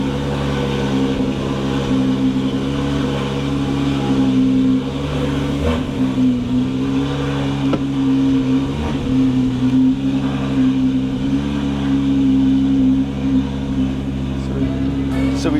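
A modern Porsche engine idles and rumbles steadily as the car pulls out of a garage, a loud, continuous low drone with small surges, heard from close by inside the car.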